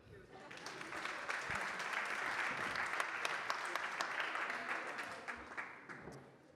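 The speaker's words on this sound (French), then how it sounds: "Vous pouvez vous applaudir." A business-event audience applauds itself in a rising then fading burst of many hands clapping, fairly soft and roomy, with faint voices underneath.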